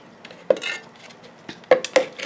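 A plant being set into a bigger pot, with several close clunks and scrapes of the pot against a hard surface spread over a couple of seconds, moderately loud and with no talk.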